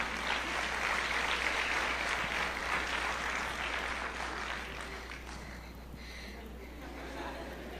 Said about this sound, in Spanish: Un aplauso para animarlo.